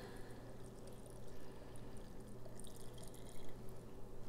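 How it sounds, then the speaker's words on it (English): Filtered water from a fridge dispenser pours into a glass jar with a steady trickling, splashing flow, close and fairly quiet, rising slightly as the jar fills. "take some filtered water that I got from our fridge and fill it halfway with water"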